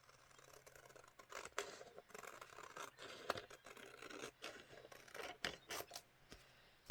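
Paper being cut with scissors for a craft project, a quiet series of irregular snips and rustles close by, with soft scraping between cuts.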